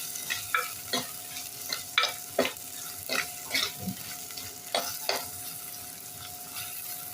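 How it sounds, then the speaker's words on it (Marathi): Finely chopped tomato sautés with fried onion for a prawn khichdi, a soft background sizzle punctuated by regular spoon scrapes and taps against the pan, roughly one every half second. "आता आपण बारीक चिरलेला टोमॅटो घालूया टोमॅटोला सुद्धा छान एकदम परतून घेऊया"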